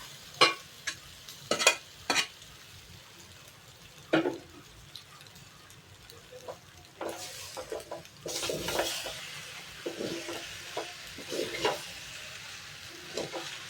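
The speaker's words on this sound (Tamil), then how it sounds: "இதை அப்படியே உடையாமல் கொஞ்சம் அப்படியே கிளறி விட்டு எடுக்கலாம்" Cooked, drained pasta turned gently through a pan with a spoon, giving sporadic scraping clicks and soft sizzling, sparse at first and busier toward the end, fairly quiet with no talking.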